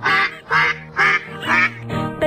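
Mother duck in a children's nursery rhyme song quacks five times in an even rhythm, loud and close, each quack nasal and drawn out.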